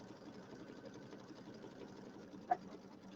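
A sewing machine stitches a spider leg onto a Halloween settee pillow with a steady, fairly quiet continuous hum, broken near the end by one brief sharp click.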